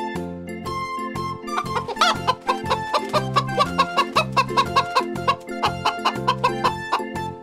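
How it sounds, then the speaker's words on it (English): Leghorn chicken giving a run of rhythmic, evenly spaced clucks, about a dozen in a row, over steady background music. "Leghorn Chicken."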